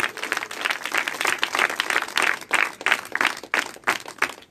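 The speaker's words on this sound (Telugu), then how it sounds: "అందరూ గట్టిగా చప్పట్లు కొట్టి దేవుని స్తోత్రం చేద్దాం" A church congregation claps together in praise of God, producing a sustained, fairly dense wash of many hands with a gently surging rhythm at moderate volume.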